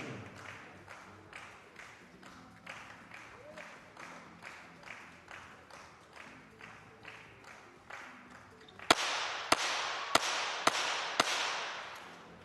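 Sharp pistol shots at a 25m rapid fire pistol final, a tight series of five loud cracks near the end, following a long stretch of steady rhythmic clapping from the crowd.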